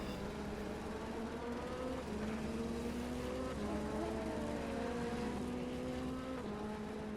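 Ferrari race cars lapping the Nürburgring in a racing video game, a steady engine drone with rising and falling gear pitches as the cars accelerate and shift, continuous and moderately loud.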